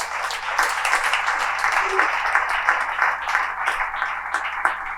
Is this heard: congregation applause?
yes